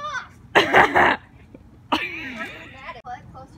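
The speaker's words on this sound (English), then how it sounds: "I have to cough." A close, harsh burst of coughing, then a person speaks a little later.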